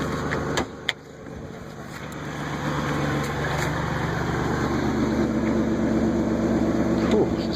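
A 2001 Buick Regal GS engine idles roughly, a steady low mechanical drone held close throughout, with a couple of sharp knocks near the start.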